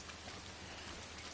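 Steady, dense rain pours down in Death Stranding as a continuous, even hiss close by, with no voices or other breaks.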